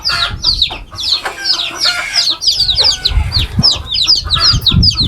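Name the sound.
hen clucking while eating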